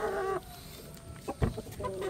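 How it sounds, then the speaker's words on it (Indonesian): A live chicken clucks in short, irregular bursts close by, with a sustained call at the start and a few sharp louder clucks later, in a quiet indoor space. "Ini ayam hidup"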